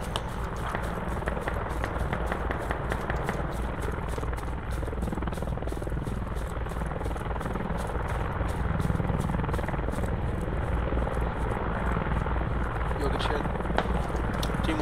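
A military helicopter in the video game Squad, its rotor beating in a steady, rapid chop over a constant engine roar, loud and close throughout, with footsteps and faint voices mixed in.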